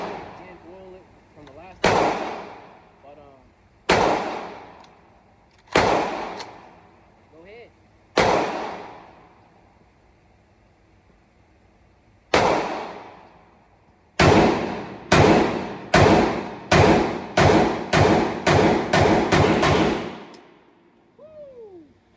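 Micro Draco AK pistol firing at an outdoor range: a few spaced single shots, then a rapid string of about ten sharp reports, each with a ringing echo tail.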